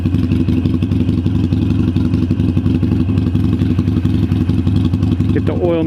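Indian motorcycle engine idling steadily up close, a continuous low throbbing rumble with mechanical clatter holding even throughout and no talk over it.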